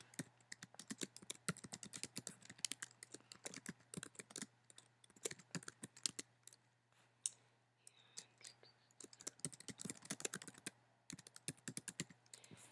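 Rapid keystrokes clatter on a computer keyboard in bursts with short pauses between them, close and quiet over a faint steady hum.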